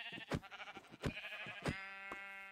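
Several Minecraft sheep bleat in short, wavering cries, three or four loud calls in quick succession, close by with a faint game ambience between them.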